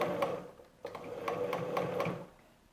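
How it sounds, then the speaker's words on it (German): A sewing machine stitches fabric along the upper edge of a curved patchwork quilt block, running in steady bursts with short pauses, close and fairly quiet, with no one speaking. "drehen unseren Stoff und nähen nun den oberen Trichter lang."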